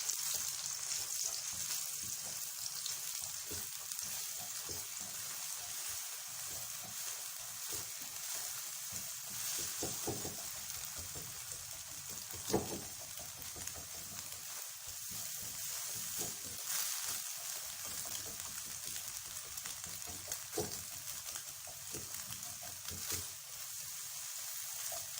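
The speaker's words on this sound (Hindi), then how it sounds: "और इसमें मैं अंडे डाल दूँगी। अब इन्हें भी फ्राई कर लेना।" Eggs frying in an oiled pan for fried rice give a steady, fairly quiet sizzle with soft crackle and occasional pops throughout.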